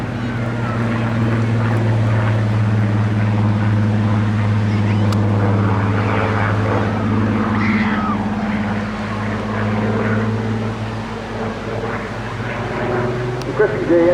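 A Supermarine aircraft engine roars at an air festival flying display in Bournemouth, a loud sustained propeller drone that swells and fades slightly as it passes, with a commentator talking over it.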